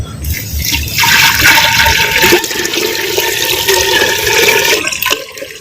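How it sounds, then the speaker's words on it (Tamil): Two litres of plain water gush into a cooking pot for country chicken rasam, a loud continuous rushing pour that swells after the first second, runs steadily, then cuts off near the end. "இப்போ பச்சை தண்ணியை ரெண்டு லிட்டரு சேர்த்துக்கிறோம்"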